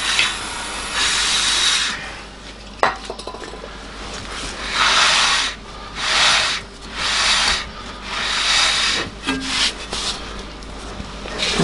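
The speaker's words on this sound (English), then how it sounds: "Let's clean off our brake disc a wee bit," Wiping grubby hand marks off the brake disc of a Hyundai Santa Fe with a cloth, a series of close, loud rubbing swipes in uneven bursts separated by short pauses, with no talk.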